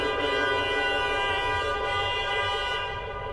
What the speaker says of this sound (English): So you hear that person honking their horn.